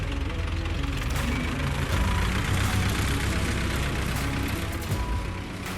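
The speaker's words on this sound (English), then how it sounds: "The sound of that tractor means it's time for us to go to work." A tractor engine runs continuously with a loud, dense mechanical rumble and clatter. It stays steady and unbroken throughout, with no voices over it.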